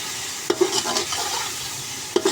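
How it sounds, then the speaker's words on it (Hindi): Spices and potatoes are stirred in a hot pan for aloo pulao, with a steady sizzle and a few sharp scrapes of the spoon near the start and end. "अब इन मसालों को हम अच्छे तरीके से मिक्स करेंगे"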